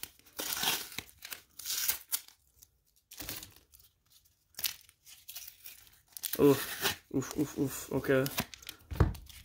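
Masking tape is peeled and torn off a package in several short, crinkly ripping bursts separated by pauses, heard close and fairly quiet, with a brief spoken exclamation between them.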